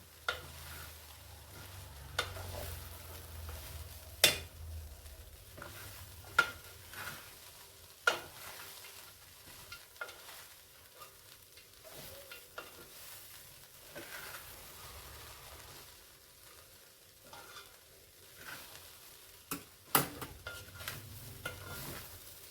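Flattened rice poha with onion and coconut being stirred in a pan, a steady soft sizzle of frying beneath repeated scraping and clinking strokes of the spoon against the metal, close and moderately quiet with no talking.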